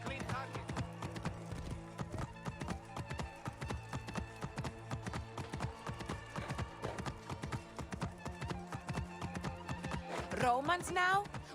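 Horse hooves clip-clop steadily through a video game scene set in ancient Roman times, with a neigh rising near the end over a constant layer of game music and ambient sound.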